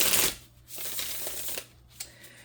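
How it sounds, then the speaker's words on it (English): Playing cards being shuffled by hand for a tarot-style relationship reading, a brief burst of riffling followed by softer, intermittent shuffling rustles, close and fairly quiet. "First, let me do some shuffling."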